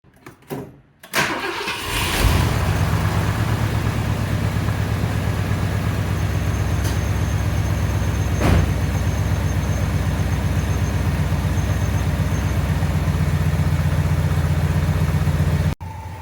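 A 1965 Ford Thunderbird engine with an Autolite 4100 carburetor cranks and catches, then settles into a steady, even idle close by for over ten seconds before cutting off abruptly.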